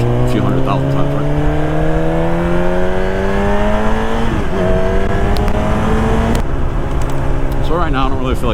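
A motorcycle engine rises steadily in pitch as the throttle opens and the clutch is released in traffic, then shifts and climbs again, loud and close with steady wind and road noise.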